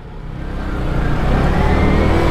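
Dense road traffic heard from a motorcycle with a helmet-mounted GoPro Hero 7: a loud, steady roar of engines and wind that builds slightly and stays close, with no pauses.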